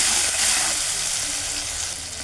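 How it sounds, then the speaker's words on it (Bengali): Steady, loud sizzle of a pan on the stove, frying with salt, turmeric and chilli powder while being stirred, a dense continuous hiss with no voices. "এবার ভালো করে এটাকে ভালো করে মিক্স করে দেবো।"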